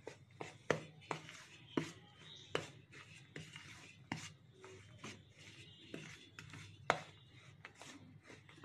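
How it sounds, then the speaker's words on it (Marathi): A spoon stirs hot jaggery syrup into a wheat flour laddu mixture, giving soft scraping and thudding knocks against the bowl at an irregular pace, close and fairly quiet. "आता आपण चम्मचनीच मिक्स करूया, कारण गुळाचा पाक जो आहे गरम आहे."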